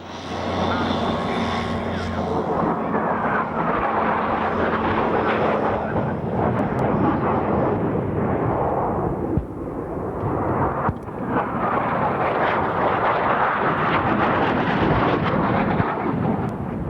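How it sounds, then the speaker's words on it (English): BAE Harrier VSTOL jet at the Mildenhall Air Fete air show, a loud continuous thunderous engine roar with a whining tone early on, rumbling on steadily throughout. "the aircraft best suited to the role is the VSTOL BAE Harrier"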